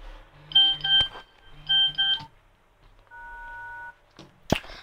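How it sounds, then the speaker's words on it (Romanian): Electronic beeps ring out from a mobile phone that keeps receiving messages: two bright, quick chirping bursts, then a steady held tone, with a sharp click at the end and no talking. "Cine tot îmi trimite mesaje?"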